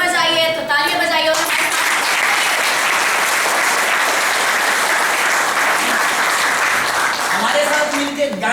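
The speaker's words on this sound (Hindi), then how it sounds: "अगर समझ आई है तो तालियां बजाइए।" A large audience breaks into loud, dense applause after a theater performance about recruiting women into the police and judiciary, with a voice speaking briefly before the clapping and again near its end.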